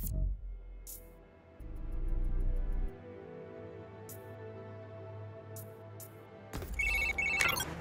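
Phone ringtone in the Spider-Man: Miles Morales game on PS5, a looping electronic ring over a low ambient game score, with a brief bright burst of ringing near the end.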